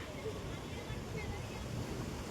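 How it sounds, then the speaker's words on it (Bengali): Sea waves break against the rocks at Rock Beach, Pondicherry, in a faint, continuous wash of surf mixed with wind noise. "ঢেউগুলো সব পাথরে মারছে।"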